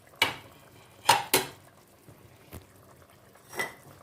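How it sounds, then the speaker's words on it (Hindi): Boiled chickpeas tipped into a pan of fried spices, heard as a few sharp metallic clinks and scrapes of a utensil against the pan, spaced irregularly with quiet gaps between. "अब ये बॉईल के चने वो इसमें हम डाल देंगे।"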